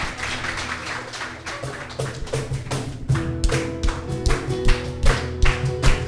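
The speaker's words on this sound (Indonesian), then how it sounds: "berikan tepuk tangan bagi Tuhan" A youth congregation at a retreat opening session applauds, a dense run of claps and taps with a low musical hum underneath that grows louder partway through.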